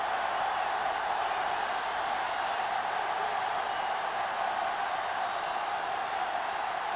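A stadium crowd at a simulated Kansas City versus Jacksonville football game, a dense, steady roar that stays even and continuous with no distinct cheers.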